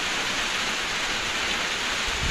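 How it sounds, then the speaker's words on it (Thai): Steady, dense rain pours down over rice-farming country before dawn, a continuous close hiss that fills the whole stretch without any break or voices. "ฝนตกตั้งแต่คืนนี้ท่านผู้ชมหมดคืนเลย แล้วก็มื้อนี้หมดมื้อนะ"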